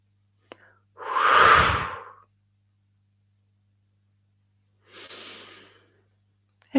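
Slow, deep breaths taken during a guided relaxation exercise: one long, full breath, then quiet, then a softer second breath, heard close and alone with no talking.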